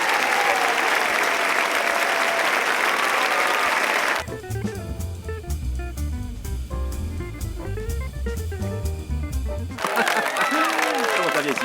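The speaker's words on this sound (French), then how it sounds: "On l'applaudit très fort." An audience applauds loudly for a contestant in a game show segment, a dense burst of crowd clapping at the start and end, interrupted by a stretch of loud music in the middle.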